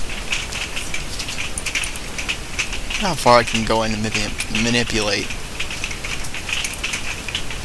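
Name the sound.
rain falling in the video game Minecraft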